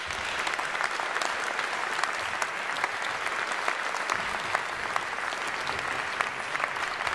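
A concert hall audience at the Barbican applauds to welcome a conductor back to the stage, with dense, steady clapping that stays loud and even throughout.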